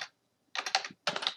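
Fingers type on a computer keyboard into a website's search field, a short burst of keystrokes, a pause, then two quick clusters of close, crisp key taps.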